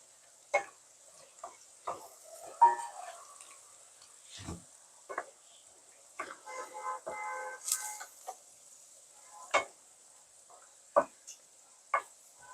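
Okra being stirred into fried mustard spice paste in a pan, scattered soft scrapes and clinks with a faint sizzle, quiet and close with pauses between strokes.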